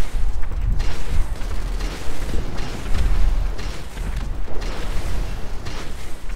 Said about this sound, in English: I just hear explosions.